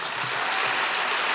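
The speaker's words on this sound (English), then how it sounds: "Let's give them a round of applause." Audience applause at a university lecture series event, heard as a steady, dense wash of clapping that holds at an even level throughout, with no voices over it.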